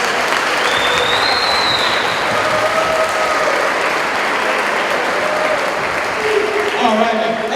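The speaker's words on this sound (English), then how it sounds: "All right, guys, a big round of applause for our speaker today," A high school audience applauds a guest speaker, a loud, sustained wash of clapping from a large crowd that swells slightly near the end, with voices and cheers mixed in.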